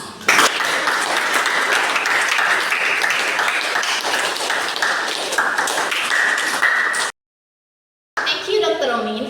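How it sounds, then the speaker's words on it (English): An audience at an academic speaking course event breaks into sustained, loud applause of many clapping hands that fills several seconds. It cuts out briefly, then resumes. "Give applause."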